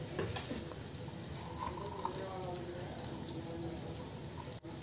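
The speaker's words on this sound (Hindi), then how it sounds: "और चावल को अब मसाले के साथ अच्छे से मिक्स कर लेंगे।" Veg jeera fried rice, made without garlic or onion, is stirred and mixed with spices in a pan, with soft scraping and gentle sizzling at a low, steady level.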